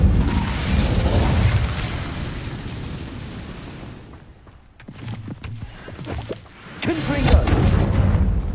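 An Incendio fire spell in Hogwarts Legacy erupts in a loud roaring, crackling burst of flame, fading to a brief lull before more fiery rushes and booms follow.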